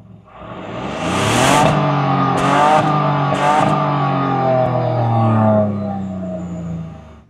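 Renault Austral car engine recorded with a close microphone, revving up in a few rising surges, the tone climbing and holding before settling back to idle, loud and close with no talk.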